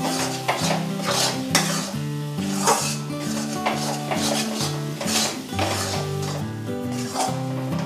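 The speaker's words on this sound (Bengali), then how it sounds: "দশ মিনিট এটা নাড়াতে হবে।" Gram flour (besan) with a spoonful of milk being stirred in a pan for a ladoo sweet, a spoon scraping and clinking against the metal in a repeated rhythm, close with a light sizzle underneath.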